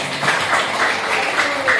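Classmates in a school lesson give a short round of applause for a student who answered, a dense soft patter of small hands clapping steadily throughout, with faint voices in the room.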